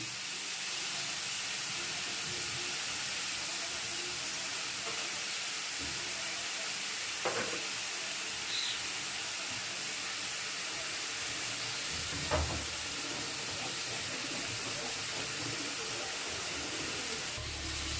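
Three green chillies fry in a hot pan, giving a steady soft sizzle and hiss, with a couple of brief stirring knocks partway through.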